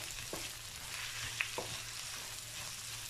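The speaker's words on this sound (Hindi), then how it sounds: "प्याज को तेज़ आंच पे फ्राई करते हुए मुझे 1 मिनट हो चुका है" Onions frying on high heat in four to five tablespoons of oil for masala bhindi, giving a steady, fairly quiet hiss of sizzling with a few faint utensil taps.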